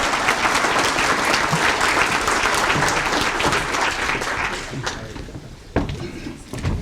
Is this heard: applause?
yes